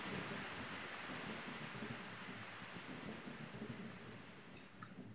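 Rainstorm in the video game Baten Kaitos: a steady hiss of rain with low thunder rumbling underneath, quiet and continuous, with a couple of brief high clicks near the end.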